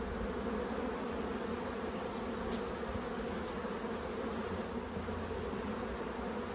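Honeybees swarm around an open Australian hive while plastic frames are lifted out for inspection. A dense, continuous buzzing hum holds steady throughout, close and enveloping, with no voices.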